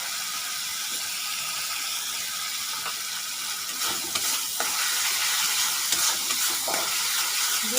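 Spices with cumin powder, half a spoon each of turmeric and cumin powder, sautéed in a pan for a fish curry, a soft steady sizzle with intermittent stirring scrapes and taps growing louder in the second half.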